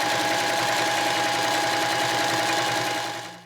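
A domestic sewing machine runs steadily, stitching cotton fabric for a two-way shoulder bag with a droning motor and a rapid needle rhythm, loud and close, slowing to a stop at the end.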